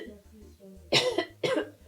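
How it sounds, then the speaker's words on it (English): A sick woman's coughing: after a low background hum, two sharp, harsh coughs close together ring out near and clear over a faint murmur of talk. "She has been coughing profusely."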